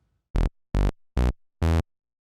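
Four short saw-wave synth bass notes with release set to zero play one after another, each cutting off abruptly into silence with no lingering tail.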